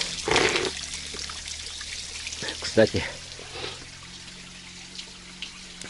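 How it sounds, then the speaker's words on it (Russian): Spring water runs and pours steadily as a container is filled at a spring. Someone speaks briefly over the trickling stream, and a louder splash stands out near the middle. "Сейчас водички наберем. Она тут бежит."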